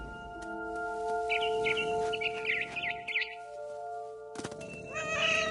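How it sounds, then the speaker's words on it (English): A frightened barn swallow in What Remains of Edith Finch gives a quick run of high chirps against a steady musical drone, with soft thumps before and after. "I tried to be quiet, but the bird was really scared."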